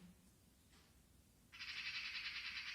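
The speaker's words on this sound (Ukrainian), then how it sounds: "О, хто це співає? Це, мабуть, якась пташка." A recording of a bird singing is played during an early-years children's drawing lesson: after a short quiet pause, a buzzy, rapid trill starts and holds steady to the end, moderately loud with no talking.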